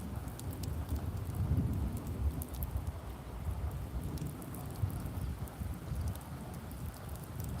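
Light rain pattering steadily on surfaces outdoors during a thunderstorm under a tornado warning, with a low rumble of thunder underneath and no voices.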